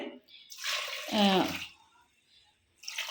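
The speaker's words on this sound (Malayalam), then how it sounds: "ഒരു പാത്രം വെള്ളമാണ് കേട്ടോ ഞാൻ ഒഴിക്കണത്" Water poured from a vessel into a pressure cooker while a homemade dishwashing liquid is prepared, a splashing pour that swells and then fades. Faint brief splashing follows near the end.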